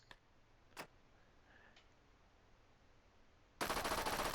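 Rapid submachine gun burst of tracer rounds in the VR shooter H3VR, entering loud and dense near the end after a few isolated sharp clicks over a quiet room tone.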